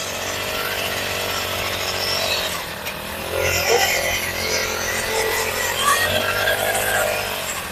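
Three-row soybean inter-cultivation weeding machine from Indian Agro Industries running in a field, a steady droning engine with rattling mechanical clatter, rising and dipping slightly as it moves.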